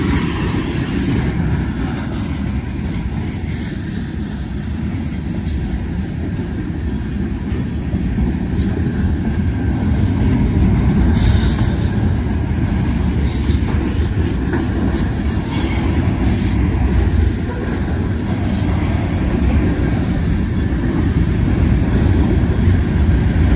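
BNSF freight train led by locomotive 4750 passing in Greenland, Colorado, with a steady loud roar of wheels and cars on the rails that holds throughout and carries faint squeals.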